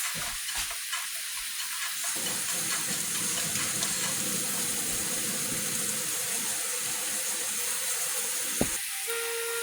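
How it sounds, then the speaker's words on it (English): Tap water runs steadily as hands are washed, a continuous close hiss with a few small knocks and clatters. "Okay, I'm going to wash my hands."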